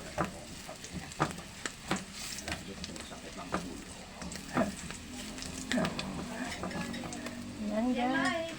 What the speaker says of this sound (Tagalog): papupula-pulahin natin ng bawang guys. Hanggang sa siya ay mag-golden brown.